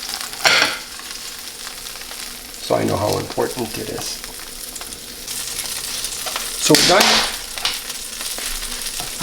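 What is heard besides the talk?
salted cod (baccalà) frying in oil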